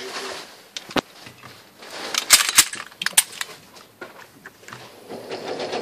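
Several sharp shots from a Canik TP9 pistol crack out at irregular intervals, a loud cluster in the middle and a few spaced reports around it, heard in open air with no talk.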